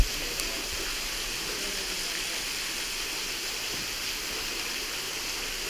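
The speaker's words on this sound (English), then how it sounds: "yet another waterfall here" A waterfall pours in a big bluff and cave area, giving a steady broadband hiss and rush that stays even and continuous throughout.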